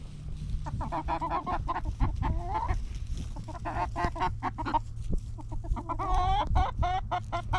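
Several chickens on a ranch clucking and squawking on and off, fairly close, over a steady low hum and scattered rustling.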